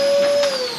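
A wall-mounted shop vac hums on for a brief instant, a steady motor whine with a high tonal whistle that starts to drop as it shuts off.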